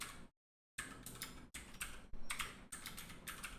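A loose computer keyboard rattles under steady typing, a dense, close run of clicky keystrokes with a brief silent gap near the start and no talk.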